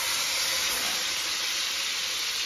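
Continuous loud hissing of steam and sizzling from steak frying in a hot pan, steady and unbroken at close range.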